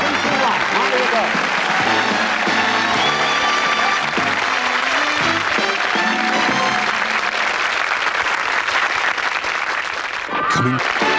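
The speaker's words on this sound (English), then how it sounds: "Give them a good round of applause, please." Sustained applause from a studio audience at the 1985 British game show 3-2-1, loud and dense throughout with cheering voices mixed in, tapering slightly near the end.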